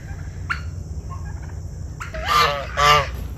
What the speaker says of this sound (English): Sarge is the guard goose.